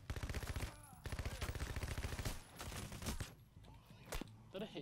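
Rapid automatic gunfire rattles through a Payday: The Heist shootout, a dense sustained burst that thins into scattered shots and impacts. A voice talks over the later part.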